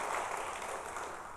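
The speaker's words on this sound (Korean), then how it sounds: "감사의 박수 한번 합시다" A church congregation applauds in thanks during a sermon, a dense, even wash of clapping held at a steady moderate level for the whole moment.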